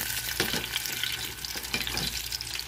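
Chicken spring rolls fry in a pan, giving a steady close sizzle and crackle of hot oil with small bubbling bursts throughout, and no talking.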